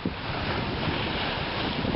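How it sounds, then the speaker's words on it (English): Lake Superior waves surging at Baptism Bay where the Baptism River meets the lake on a sunny day, a steady broad roar of surf mixed with heavy wind rumble, loud and continuous. "Sure doesn't stop the waves at all, though."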